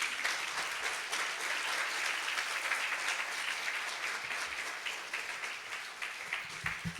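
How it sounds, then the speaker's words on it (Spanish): A church congregation applauds during a sermon, producing a steady, fairly distant roar of many hands clapping that holds throughout and fades slightly near the end. "Dale un aplauso al Señor."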